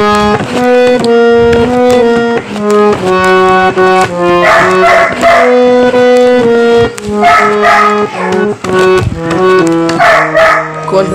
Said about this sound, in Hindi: वो पीछे से भौंक रहा है, जब ये बजता है तभी भौंकता है